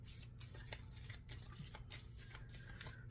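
A tarot deck is shuffled quietly by hand, giving a faint, steady run of papery riffles and soft card slaps with no voice.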